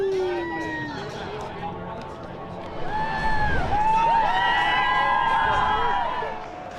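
Crowd at a Surrey v Nottinghamshire county championship cricket match, a steady murmur of spectators with scattered shouts and whistles that swells into louder cheering midway before easing off.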